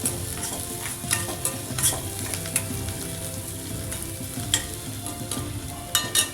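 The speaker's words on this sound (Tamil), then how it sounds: "இப்போ வெங்காயம் ஓரளவுக்கு நல்லா வதங்கிடுச்சு." Onions sautéing in a frying pan while cooking baby potato fry: steady close sizzle with repeated scraping stirs and light clinks of a spoon against the pan throughout, no talk.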